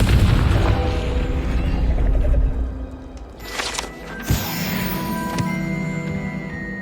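A Confringo fire spell from the video game Hogwarts Legacy bursts in a loud booming explosion, followed by a couple of sharper blasts over a rumbling, busy game soundscape.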